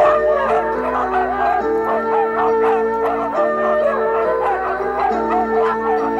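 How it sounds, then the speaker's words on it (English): A team of racing sled dogs howls and yips together in a loud, continuous chorus, with overlapping high wavering calls close by and no pauses. "Mel and Jim Hellier first saw a sled dog team in action in 1981."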